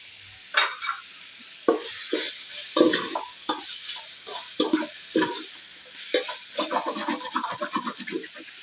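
Tomatoes, salt and spices being sautéed in a pan for chicken dum biryani, with a soft steady sizzle broken by repeated scraping and stirring strokes of a spoon, close and moderately loud with no talking.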